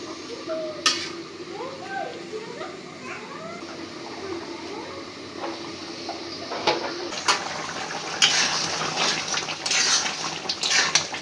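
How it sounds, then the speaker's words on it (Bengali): Broth pours into a pan of beef roast masala, building into a rushing, splashing stream in the second half, with sharp metal clanks of utensils against the pot and a low kitchen hum underneath. "এখন একটু ঝোল দিয়ে দিব"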